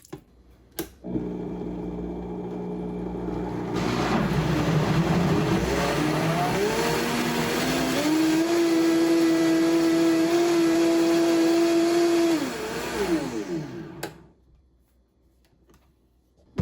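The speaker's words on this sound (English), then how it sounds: "I'm gonna blend the other half real quick and add that as well" A blender kicks on and whirs loudly for about ten seconds while pureeing butternut squash soup, its motor pitch rising and steadying into a high whine before spinning down to silence.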